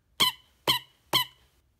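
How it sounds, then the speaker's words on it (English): Three squeaky toy-like squeaks from striking a Blackpink lightstick, evenly spaced, loud and close with brief decays and silence between them. "So apparently you can switch this and then it has the squeaky noise when you hit it."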